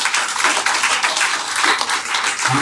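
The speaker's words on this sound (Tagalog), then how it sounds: "Malakas na palakpak po para sa Diyos." A church congregation clapping loudly together, a dense sustained wash of applause with no breaks.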